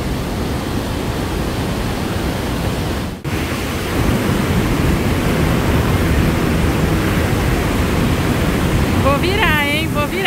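Roaring rush of water at Iguazu Falls near the Devil's Throat walkway on the Argentine side, a loud, steady broadband torrent filling the whole stretch, with brief bird-like chirps near the end.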